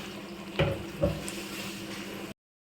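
Water is poured from a vessel in a home kitchen, a short faint splash with two brief surges over about two seconds, then silence.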